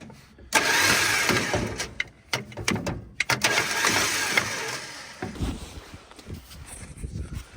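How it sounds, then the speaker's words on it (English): An old, oily Mopar car left in the woods has its starter cranked in several bursts, a loud whirring churn that stops and restarts, then fades into softer mechanical knocks. "we're just gonna try smacking the starter here before pulling it out"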